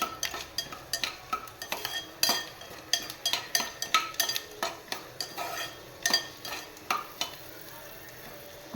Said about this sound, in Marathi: शेंगदाणे आता फुटायला लागले, आवाज करतात मस्त